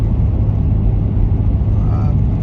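A Toyota 100 Series Landcruiser with a 1HDFTE turbo diesel engine and a new fuel system drones steadily while driving, a loud, constant low rumble that fills the cabin.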